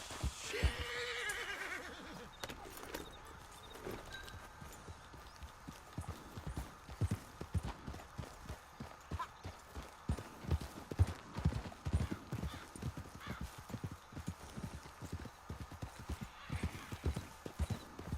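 In the video game Red Dead Redemption 2, a horse whinnies near the start, then hooves clip-clop in a steady, uneven rhythm throughout, close and fairly loud.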